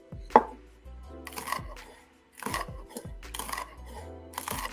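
Knife slicing a pepper on a cutting board in a kitchen, several crisp chops in irregular succession with sharp board knocks, close and fairly quiet, no talking.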